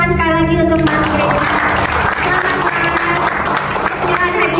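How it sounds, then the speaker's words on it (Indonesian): Sustained audience applause at an auto show vlog competition held at IIMS 2023, steady and full throughout, with a voice talking briefly over it at the start. "Boleh kita kasih tepuk tangan sekali lagi untuk Mas Regi."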